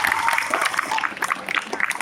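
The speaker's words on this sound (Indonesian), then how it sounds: "Tepuk tangan dulu." Audience clapping at an Islamic storytelling session for children, a short burst of dense hand claps at moderate loudness, with a faint voice underneath.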